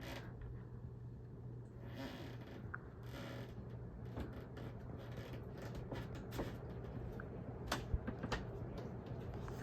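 A Harbor Breeze Galileo ceiling fan spins at high speed and wobbles slightly, making a quiet, steady hum with soft intermittent creaks and mechanical ticks throughout.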